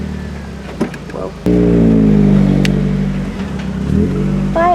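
A supercharged Mazda Miata pulls away after an engine start, its exhaust a loud, rumbling drone that holds and then fades as it drives off, with faint voices nearby.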